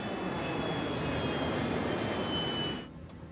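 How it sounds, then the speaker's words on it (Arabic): Inside an airliner, a steady roaring engine drone with a thin high whine holds evenly, then drops off sharply near the end as the engine is throttled back to idle. "يخفض القبطان الطاقة من خارج المحرك إلى وضع الخمول ليحميه من الضرر"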